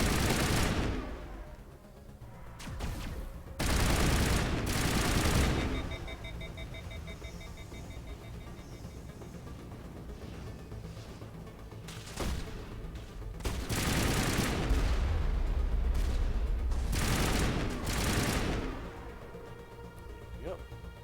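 Gunfire in the Mass Effect video game: loud bursts of rapid weapon fire come in several volleys, with electronic beeping tones between them and someone talking over parts.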